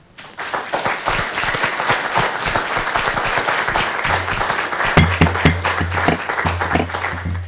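An audience in a city council chamber breaks into sustained applause, a dense wash of many hands clapping that starts abruptly and carries on steadily, with some louder individual claps standing out near the end.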